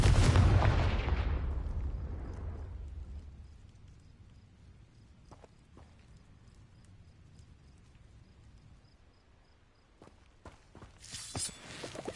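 Hogwarts Legacy Confringo fire spell detonating in a loud explosive burst that rumbles and fades over a few seconds, followed by quiet and then a cluster of sharper crackling impacts near the end.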